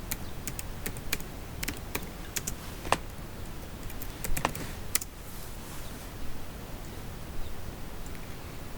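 Bursts of computer keyboard typing as a search term is entered, quick irregular key clicks clustered near the start and middle, close and moderately loud over a steady room hiss, with no one speaking.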